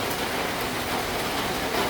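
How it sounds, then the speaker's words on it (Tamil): Heavy rain pours down steadily during a downpour in Sri Lanka, a dense, unbroken hiss of water hitting surfaces, loud and close, with no pauses or voices. "மழை அப்படி ஒரு வேகமாக பெய்யுது"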